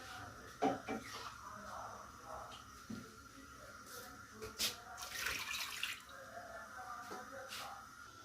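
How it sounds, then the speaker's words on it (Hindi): About two glasses of water poured into a cooking pot for jaggery rice, a faint splashing and dripping pour with short gurgling bursts and clinks, heard quietly at close range. "तकरीबन 2 गिलास पानी इसमें डाल के मैं इसे पकने के लिए रख दूँगी।"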